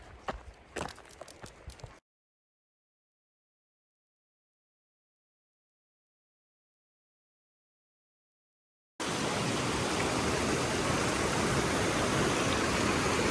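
A small mountain creek flows beside a hiking trail near Ball Pass in Banff, a steady loud rushing of water that starts abruptly after a few seconds of footsteps and a long stretch of silence.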